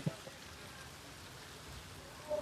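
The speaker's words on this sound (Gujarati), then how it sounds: "ધીમો ધીમો વરસાદ ચાલુ છે" Soft, steady hiss of light rain falling in the late afternoon at Salangpur, faint and continuous with no voices.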